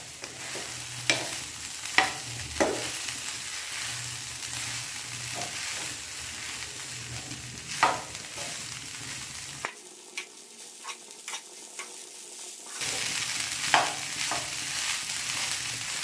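Tempering fries in a pan for phodnicha bhaat made from leftover rice, a close, steady sizzle with scattered clinks and scrapes of stirring; the frying briefly drops away midway, then resumes.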